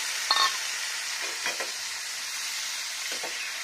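Spice paste of green mustard, cumin and dried chilli fries in a pan with a constant hiss and sizzle, broken by a few sharp scraping stirs close by.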